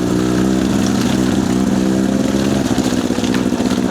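Motorcycle engine running steadily and loud throughout while riding a muddy green lane in rainy weather, with continuous mid-pitched drone and slight throttle variation near the end.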